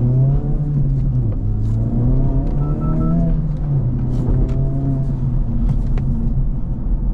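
A 2024 Acura Integra Type-S engine pulls steadily under moderate throttle, its pitch rising and stepping through gears in a continuous close, loud drone that holds below high revs from inside the cabin.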